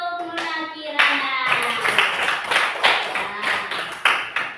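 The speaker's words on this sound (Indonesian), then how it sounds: "tepuk tangan untuk Nona Kirana" Applause in a classroom for a girl named Nona Kirana, a burst of sharp hand clapping from a group of children, loud and close, with a few stray claps trailing off near the end.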